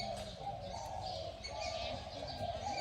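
Pigeons or doves coo steadily in a bird cage while smaller birds chirp and tweet over them, a busy, continuous chorus at moderate distance.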